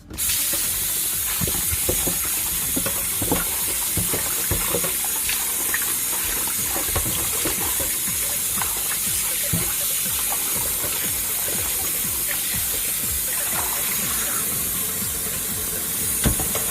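Steady water runs from a tap in a constant rushing hiss while raw chicken is washed, close and fairly loud, with small clatters now and then and no talking.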